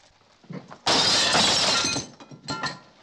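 Glass shattering into shards in a 1957 Berlin film scene: a loud, bright crash lasting about a second, preceded by soft movement and followed by a few scattered tinkling fragments.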